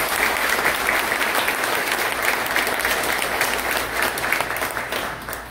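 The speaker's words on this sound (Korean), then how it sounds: "한번 크게 박수로 영광합니다." A church congregation at an anniversary ordination service applauds loudly and steadily, a thick continuous wall of clapping from many hands that fades slightly toward the end.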